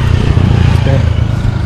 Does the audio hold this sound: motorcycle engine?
yes